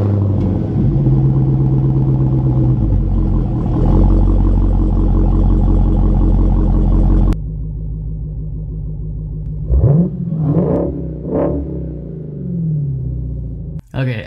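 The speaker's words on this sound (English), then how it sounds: "let's go ahead and take this opportunity and take a quick listen to that aggressive exhaust" A 2018 Dodge SRT Hellcat exhaust rumbles with a deep, steady drone, then drops to a lower idle broken by a few sharp revving blips, heard close up with some voices nearby.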